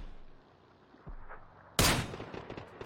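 Gunfire in an online shooter game: a soft thud, then a sudden loud burst of shots with a short rattling tail, close and sharp.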